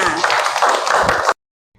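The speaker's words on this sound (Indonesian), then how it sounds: "Tepuk tangan buat kalian semuanya." Students in a school classroom clap together, a dense burst of hand claps with some voices mixed in, lasting about a second and a half before cutting off abruptly.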